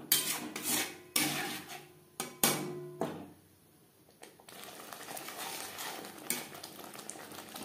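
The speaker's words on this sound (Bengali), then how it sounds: "লো টু মিডিয়াম ফ্লেমে 3-4 মিনিট নাড়াচাড়া করে নেব" Spice masala for aar fish curry is stirred in a pan over low to medium flame, several loud metal spoon scrapes and clanks over a soft sizzle that continues alone afterward.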